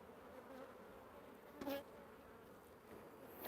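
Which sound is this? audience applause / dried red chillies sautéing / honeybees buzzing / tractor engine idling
honeybees buzzing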